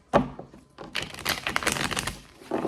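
Two tarot card decks being shuffled separately give a quick run of riffling card flicks and soft taps, close by with no talk.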